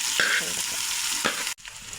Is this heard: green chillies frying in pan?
yes